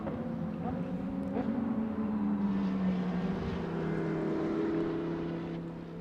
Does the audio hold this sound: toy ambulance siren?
no